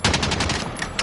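Rapid automatic gunfire from a video game rattles in a dense, loud burst lasting about a second, with no speech over it.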